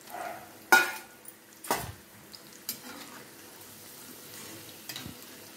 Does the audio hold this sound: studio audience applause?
no